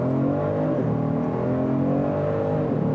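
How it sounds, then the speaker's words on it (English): A 2019 Genesis G70 3.3T sedan launches hard under launch control, its engine roaring loud and close with a steady, rising pull of harmonics as it accelerates, no voices over it. "Now I want to try the launch control one more time, just because we can."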